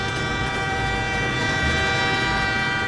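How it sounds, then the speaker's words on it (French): A train rolls steadily along its rails with a loud, continuous rumble and sustained droning tones, holding an even level throughout with no pauses. "comme ce train qui roule sur ses rails de façon constante"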